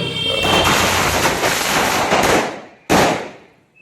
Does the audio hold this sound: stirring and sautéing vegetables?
no